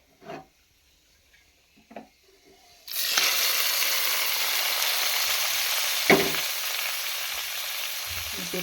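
Tempering with cashews hits hot sambar rice with a sudden loud sizzle that holds steady to the end, after a few faint handling clicks; one sharp clink rises partway through.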